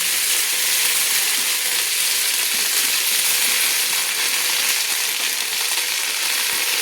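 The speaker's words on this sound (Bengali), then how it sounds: "আদাটাকে তেলের মধ্যে কিন্তু ভেজে নিচ্ছি" Grated ginger frying in hot oil for a Bengali khichuri with winter vegetables, a steady loud sizzle that holds evenly throughout with no talk over it.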